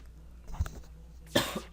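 Two short coughs from a person close by, a lighter one followed by a louder, harsher one, over a quiet background hum.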